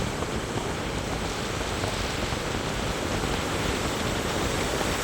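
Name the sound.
sea waves crashing at Dwarka shore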